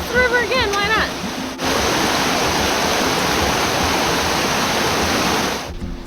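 A swift-moving river in Patagonia's Nahuel Huapi National Park rushes in a loud, steady roar, following a brief voice at the start.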